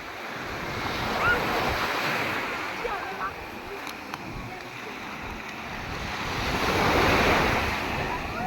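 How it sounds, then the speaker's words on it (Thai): Sea waves wash steadily onto a beach where children are playing in the water, a continuous broad surf roar that swells and eases, with wind buffeting the microphone throughout. "นี่คือบรรยากาศทะเล"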